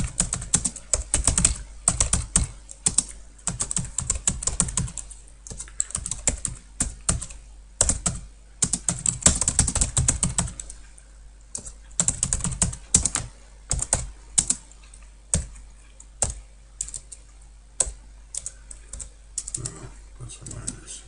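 Fingers type steadily on a computer keyboard at close range, a dense run of crisp clicking keystrokes with brief pauses, easing to sparser taps toward the end.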